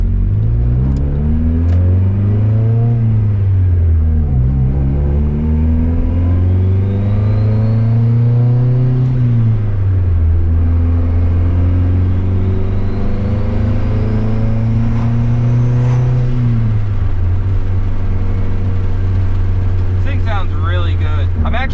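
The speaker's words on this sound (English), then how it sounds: "With that new Evil Energy muffler and our custom 3-inch exhaust we made, this thing sound is pretty dialed." A loud Honda Civic turbo exhaust with a custom 3-inch system and an Evil Energy aftermarket muffler drones and burbles, its pitch rising and falling through several revs, steady and close throughout.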